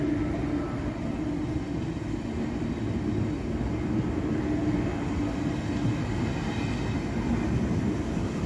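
A train passes through Würzburg Hbf station with a continuous, fairly loud rolling rumble and steady rail noise from start to finish.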